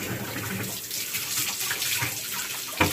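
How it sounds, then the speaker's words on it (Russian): Items are rinsed under a running kitchen tap, a steady, close splashing stream that hisses continuously before cutting off sharply at the end, with no talking. "Я их здесь споласкиваю под водой."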